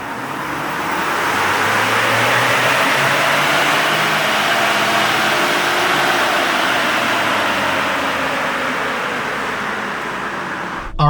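A 2021 Ford Bronco with the 2.7-liter EcoBoost engine gives a loud, steady drone that swells gently and then settles, with no sharp revs standing out.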